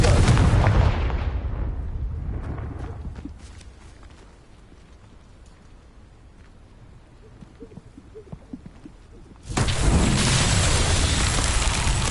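A loud booming blast from the Confringo explosion spell in the game Hogwarts Legacy during a Merlin trial, erupting at the start, fading into a quiet rumbling stretch, then a second sustained roaring burst near the end.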